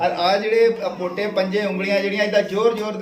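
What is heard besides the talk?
No everyday noise stands out behind the speech.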